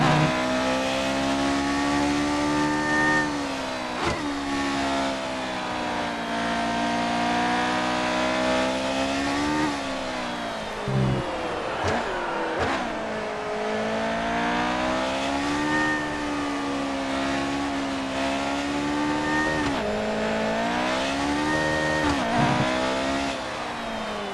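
Formula 1 car in the F1 2018 racing game at Shanghai, its loud engine screaming continuously for a long stretch, pitch rising through each gear then dropping sharply at repeated quick upshifts and downshifts.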